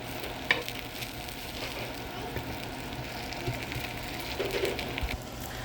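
Refried beans frying in a pan, a steady close sizzle with soft stirring and scraping sounds and an occasional clack as they are flipped, with no talking.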